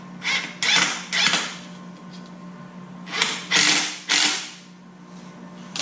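A 3/4 inch screw is driven into a crab trap bait cup with short ratcheting, whirring bursts of the driver, several separate spurts with pauses between them, close and clear.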